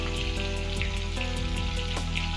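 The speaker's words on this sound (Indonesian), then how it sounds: "Ikan tongkol goreng buka menu puasa guys nanti guys." Mackerel tuna fish fries in hot oil in a simple home kitchen, a steady loud crackling sizzle with dense popping that runs unbroken throughout, no voices over it.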